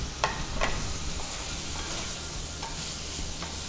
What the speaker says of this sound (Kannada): ಆಲೂ ಮಿಕ್ಸ್ ಮಾಡಿಕೊಂಡ್ರೆ ಆಯಿತು